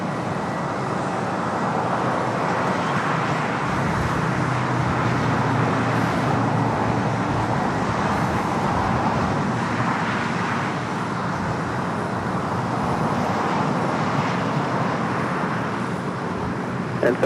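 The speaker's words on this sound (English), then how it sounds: "777 now starting its roll down to 2, 4" A Boeing 777 airliner begins its takeoff roll on runway 24 left at LAX, giving a steady, loud broadband jet roar that holds throughout without breaks.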